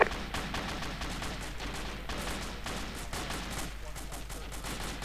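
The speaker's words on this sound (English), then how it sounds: "I'll be firing these shots." Rapid gunfire from a military shooter game, Arma, in a ShackTac operation: dense, continuous volleys of shots crackling throughout, loud and sustained with quieter voices beneath.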